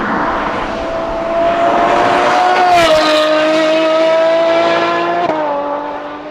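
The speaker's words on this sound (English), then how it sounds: "we'll just put in a bit of a noise file from one of our 812s with a Novitec exhaust system so you can hear that sound." A Ferrari 812 fitted with a Novitec exhaust system screams at high revs in a loud, sustained, piercing wail, holding nearly steady pitch with a couple of brief shifts before easing off at the end.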